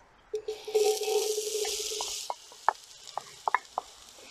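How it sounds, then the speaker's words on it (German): Onions and meat hitting hot fat in a Dutch oven give a steady close sizzle for about two seconds, then a run of sharp scrapes and knocks as the pot is stirred. "Die Zwiebeln braten wir glasig an."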